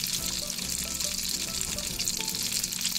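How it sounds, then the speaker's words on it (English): Garlic cloves cooking in melted unsalted butter in a pan, a loud, dense, continuous sizzle heard up close without pause. "Once the butter melted, add garlic cloves"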